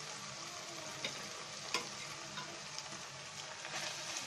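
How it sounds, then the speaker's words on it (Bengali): Chopped onion sizzles steadily in hot oil in a pan, with a constant hiss broken by a few soft clicks of a utensil against the pan, and no voices. "এখানে পেঁয়াজটা ভাজা হচ্ছে"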